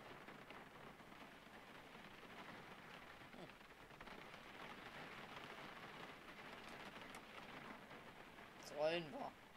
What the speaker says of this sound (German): da ist ja Sturm draußen hier